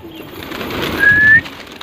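A pigeon gives a soft, low cooing call close by, brief and alone.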